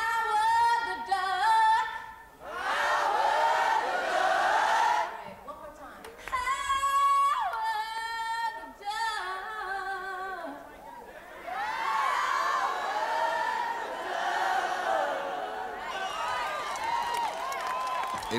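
A large crowd of thousands cheers and claps for a band at a rock concert in the 1986 film Howard the Duck. Loud, sustained roars and applause rise in waves with brief dips, mixed with music and shouting.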